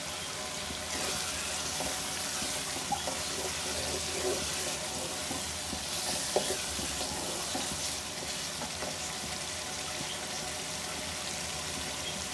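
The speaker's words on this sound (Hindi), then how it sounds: "थोड़ा सा इसको और भून लेंगे, 1 से 2 मिनट और।" Dal keema, a chana dal and minced meat mix, sizzling and being stirred in a pan, a steady close frying hiss with scattered soft scraping stirs and no speech.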